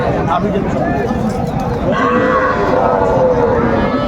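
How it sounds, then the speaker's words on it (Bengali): A young bull calf gives a drawn-out moo among young bulls and heifer calves for sale in Pabna, over a constant noisy background of livestock and bustle. "এই যে ষাড় বাচ্চা এই বাচ্চাটা দেখান তো ষাড় বাচ্চা"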